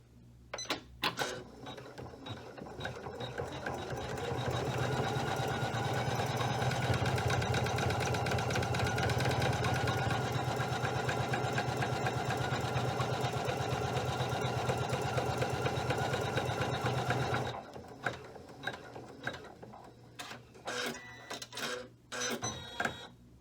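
A Janome 500E embroidery machine sews a tack down stitch with a steady, fast mechanical whirring and rhythmic needle chatter that runs close and loud for about sixteen seconds, then stops, followed by a few clicks and handling noises.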